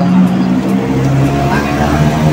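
A Toyota 2E car engine overdue for an oil change runs with a steady, close, low rumble that holds an even level throughout.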